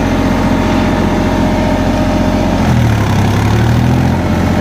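Massey tractor engine running steadily at 1800 RPM, a loud continuous low drone close by that shifts in pitch partway through, with no talking.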